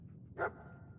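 Dogmeat, the dog companion in the Fallout 4 video game, makes one short, fairly loud breathy dog sound over a low, steady game background.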